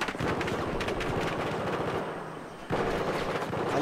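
Heavy, continuous gunfire and explosions from a Battlefield 4 match, dense overlapping shots rattling throughout with a brief dip before the barrage surges back loud.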